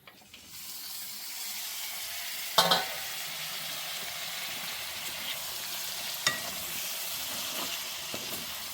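Tomato pieces cooking in hot oil alongside chicken for a village-style chicken curry, giving a soft, steady sizzle and bubbling, with a couple of brief clanks from the pan.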